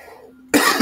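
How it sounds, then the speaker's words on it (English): A short, harsh throat clearing right up close, a single rough burst following a brief moment of quiet. "let me clear my throat"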